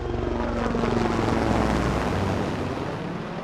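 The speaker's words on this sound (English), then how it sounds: "getting a helicopter to hover like that in place and capturing that little bit of motion" A helicopter hovers in place, recorded from onboard: a dense, steady roar of engine and rotor with a rhythmic blade throb, loud and continuous throughout.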